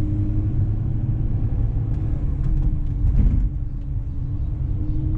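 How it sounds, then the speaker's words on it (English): A garbage truck rumbles steadily nearby with a deep, droning engine, loud and continuous with a slight swell partway through, and no voices. "trash truck, garbage truck"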